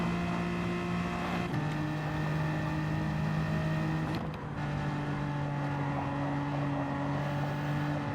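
Race car engines in Gran Turismo 7, a BMW M4 Gr.4 racing against AI cars at Interlagos, drone steadily with sustained tonal whine and a brief dip midway, continuous and fairly loud throughout.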